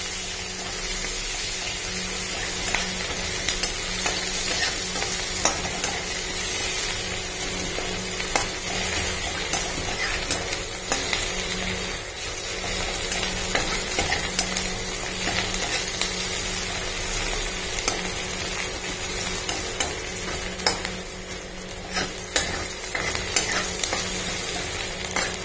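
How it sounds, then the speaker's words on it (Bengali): Onion tempering in hot oil in a Bengali fish dish, after the fish has been fried: a loud, continuous close sizzle and crackle with occasional stirring and no talk. "এই যে পেঁয়াজটা ফোড়ন দিলাম। হ্যাঁ, পেঁয়াজটা ফোড়ন দিয়ে"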